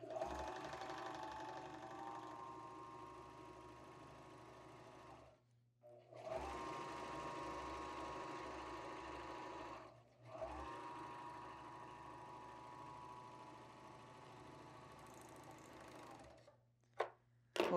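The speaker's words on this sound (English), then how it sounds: "So let's run this through the serger." A four-thread serger overlock sewing machine stitches a 1/4 inch seam on swimsuit lining fabric, whirring steadily in three long close bursts separated by brief pauses, with a small clunk at the end.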